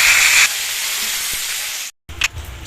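Potatoes frying in a pan give off a steady bright sizzling hiss, loudest at first and then settling into a softer even sizzle, with a brief break before a few spitting crackles.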